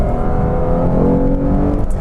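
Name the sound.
2015 Lexus RC 350 F Sport engine accelerating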